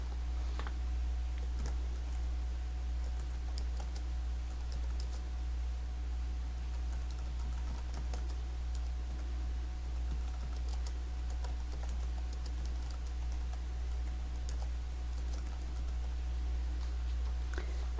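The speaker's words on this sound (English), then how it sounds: "You type your question in the question prompt box." Keys tapped on a computer keyboard while a quiz question is entered, a steady scatter of faint, quick clicks over a constant low hum, no voices.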